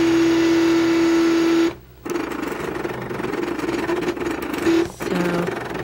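An E2 cutting machine runs through a cut, giving a steady motorized whir with a brief pause and small shifts in pitch as the head moves, close and alone.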